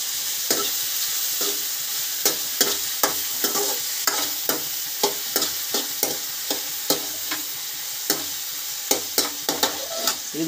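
Tomatoes fry in oil with a constant sizzle. Repeated, evenly spaced scrapes of a spoon stirring the pan punctuate it. The sound is close, with no voices.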